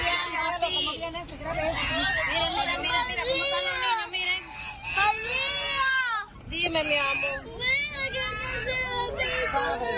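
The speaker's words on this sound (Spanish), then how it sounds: "El video de los niños dando gritos" Children screaming and crying in distress amid tear gas at a protest, loud and continuous with overlapping wails, sobs and shouting voices throughout.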